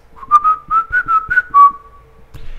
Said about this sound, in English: Insert Old Spice whistle.